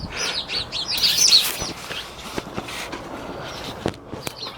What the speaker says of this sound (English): Don't mind the birds.